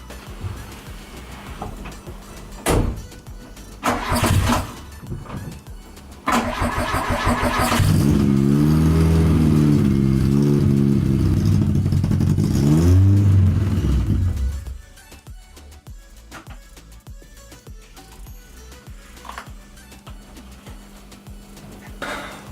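A VW Polo with a newly built exhaust starts up and idles loudly with a few throttle blips, then shuts off into near silence. Scattered clicks and clunks surround it, with no clear voices.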